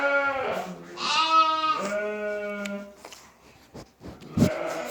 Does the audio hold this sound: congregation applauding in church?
no